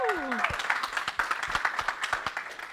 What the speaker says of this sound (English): Please give a round of applause for Olia.